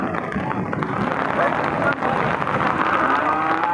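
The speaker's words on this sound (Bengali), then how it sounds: "দেখছেন প্রচুর কিন্তু বৃষ্টি জোরে নেমেছে" Heavy rain pours steadily over an open-air cattle market at Chandaikona, a dense, constant hiss that fills the whole stretch, with faint voices blending into the downpour.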